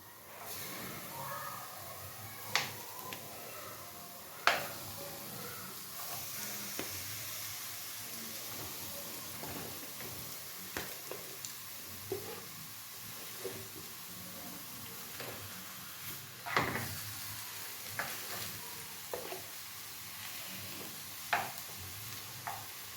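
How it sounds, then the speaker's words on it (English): Ossobuco searing in a hot pan gives a steady, quiet sizzle and hiss throughout, broken by occasional soft clinks and scrapes of a utensil against the pan. "On our pan, we will add the ossobuco."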